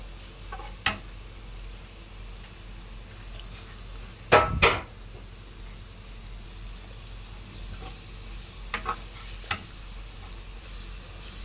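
Carrots fry in a pan under a quiet, steady sizzle, broken by a few scraping stirs and a louder clatter of a utensil against the pan near the middle.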